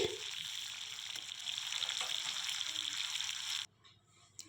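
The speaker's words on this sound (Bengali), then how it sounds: "আর কালো জিরেটা ভালো করে ফুটে এলেই অ্যাড করে দিচ্ছি লম্বা লম্বা করে কেটে রাখা আলু।" Long-cut potatoes fried in oil with a black cumin tempering, for a catla fish curry with potato and eggplant, a loud steady close sizzle that cuts off sharply near the end, leaving faint quiet background.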